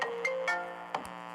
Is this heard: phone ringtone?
yes